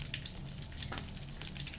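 Eggplant frying in cooking oil, a steady close sizzle with soft crackles and a brief louder pop near the middle, no talking.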